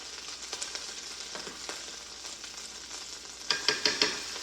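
Slice of meatloaf frying in a pan, a steady soft sizzle with a few quiet pops and clicks, then several sharper crackles toward the end.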